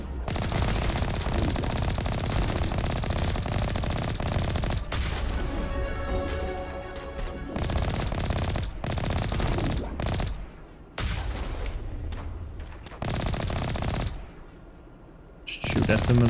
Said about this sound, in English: We're already getting shot at. They're hitting us.